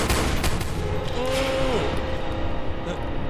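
Rapid gunfire from guns in the Roblox video game, a dense, steady stream of shots filling the whole stretch while a voice talks over it.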